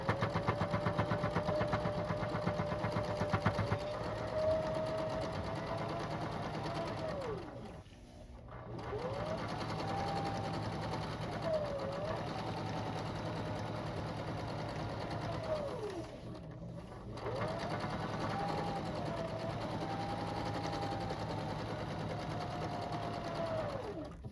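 A sewing machine stitches a pillowcase seam in a steady, continuous whir that runs for several long stretches, broken by two brief pauses, close and moderately loud with no talking.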